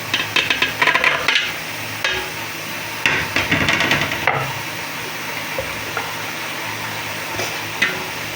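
Beef hits a hot pan and cooks, with a burst of clattering and scraping at first, then a steady sizzle with occasional knocks of a utensil against the pan.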